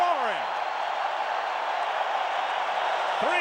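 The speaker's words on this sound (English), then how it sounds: "The crowd roaring." A baseball stadium crowd at a Chicago White Sox versus Minnesota Twins game makes a steady, distant broadband roar. Brief voice sounds appear at the start and end.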